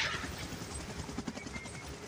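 Steady rotor and engine drone of a helicopter in PUBG Mobile, a dense broadband whir with faint thumping that holds at an even level throughout, with no speech.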